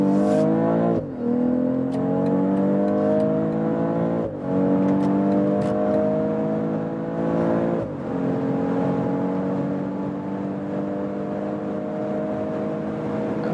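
BMW X3 M40i in sport mode accelerating hard from 60 km/h on the autobahn, a loud continuous engine note climbing in pitch through each gear with two brief dips at upshifts, heard from inside the car with no talking.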